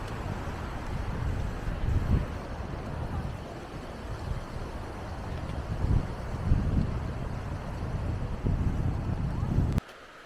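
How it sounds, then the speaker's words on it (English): Wind gusting on a mountain trail in Argentina, a loud low rumble buffeting the microphone in uneven surges that swell and ease for about ten seconds before cutting out abruptly. "A little windier up here"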